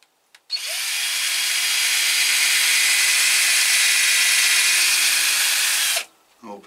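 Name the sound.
power drill drilling holes in orchid mount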